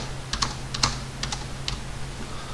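Computer keyboard keys tapped to enter a short CAD command, a few quick clicks in a loose irregular rhythm, close and fairly quiet over a low steady hum.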